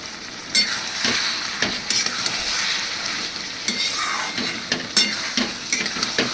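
Jhinge aloo posto, ridge gourd and potato with poppy seed, fries in oil in a pan, a constant close sizzle broken by sharp scraping and clinking stirs at irregular intervals, with no talking.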